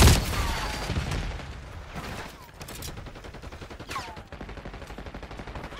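Gunfire in Black Ops 6, heavy automatic bursts and rapid repeated shots that are loudest at the start and continue in a steady rattling stream, with scattered voices under the shooting.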